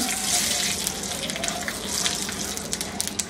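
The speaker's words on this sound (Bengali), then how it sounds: "এগুলা দিয়ে একটু নাড়াচাড়া করে নিব, যাতে মশলার গন্ধটা চলে আসে এর মধ্যে, গরম মশলা তেলের মধ্যে।" Whole garam masala spices with cardamom and two bay leaves frying in hot oil while being stirred, a steady close crackling sizzle with brief scraping ticks throughout.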